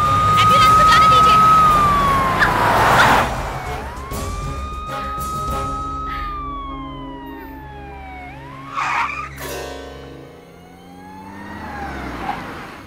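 An ambulance siren wails loudly in a rising and falling pattern close by on a busy road, with vehicle noise around it and a person speaking over it.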